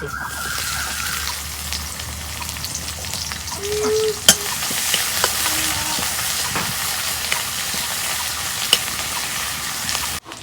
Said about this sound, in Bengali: তেল গরম হয়েছে এখানে আমি দিয়ে দেবো পেঁয়াজ